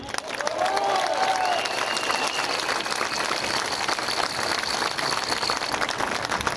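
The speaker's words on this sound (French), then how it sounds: "On peut les applaudir." An audience at a political speech applauds the organizers and volunteers with a full, sustained round of clapping, joined by scattered cheers and a whistle near the start.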